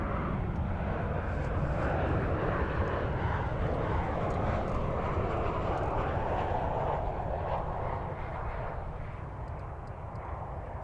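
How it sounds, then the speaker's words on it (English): A Boeing 737-800 landing at Dallas-Fort Worth International Airport gives a steady, broad jet roar that holds loud across the whole stretch, with rumbling low end and no voices. "This will be a 737-800 here on Runway DFW, live from Dallas-Fort Worth International Airport."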